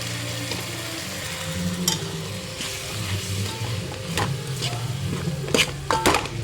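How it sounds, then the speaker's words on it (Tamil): Oil sizzles steadily in a pan as chilli powder and turmeric are sautéed, while a spoon scrapes and stirs, with a few sharp clanks of metal against the pot. "நல்லா எண்ணெயிலே வதக்கணும்."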